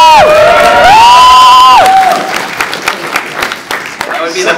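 A geek convention panel audience cheers, whoops and applauds loudly in one burst, with a long rising shout at the start, then the clapping thins and fades over the last seconds.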